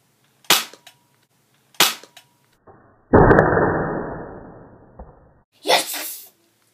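Nerf blaster fired at targets: two sharp close pops about a second apart, then a longer noisy burst of roughly two seconds and another pop near the end.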